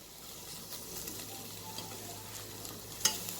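Cabbage and spring onion stir-fried in a pan for fried rice, giving a steady low sizzle with soft stirring scrapes and one sharper clink near the end, no voices.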